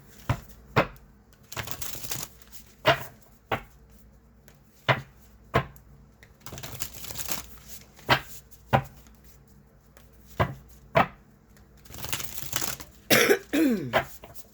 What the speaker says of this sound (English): I've been coughing my head off, so if I'm coughing in this video, please forgive me.